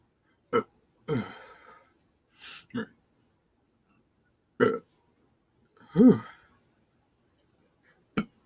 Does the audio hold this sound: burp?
yes